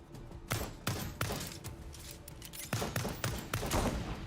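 Shotgun blasts in the Worlds Adrift video game, a string of loud, close booms at irregular intervals, about seven shots with short gaps and no talk.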